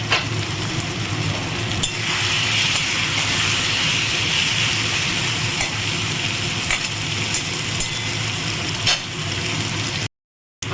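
Fried potatoes hit a pan of cooked-down onion, tomato, ginger and garlic masala and sizzle loudly and continuously, with occasional scrapes of stirring and a short break near the end.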